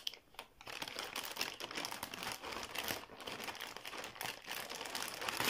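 Close, continuous crinkling and rustling of plastic packaging for several seconds, with irregular crackles and no talking.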